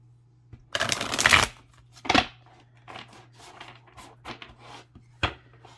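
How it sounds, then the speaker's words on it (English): A deck of astrology cards being shuffled by hand, with a long riffle, then a short burst and several softer, quicker riffles, close and crisp in a quiet room. "I like cards that are easy to shuffle so I can hear that noise, that sound as quickly as possible."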